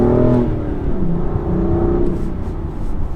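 A loud, close BMW M4 sports car engine revs up and accelerates, its throaty growl climbing steadily in pitch.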